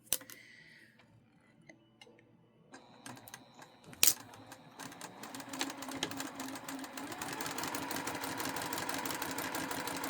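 A sewing machine stitches across quilting fabric while a mitered corner is sewn. It starts with scattered soft clicks and handling, then a sharp knock and a steady, rapid mechanical whir of stitching that runs loud and close to the end.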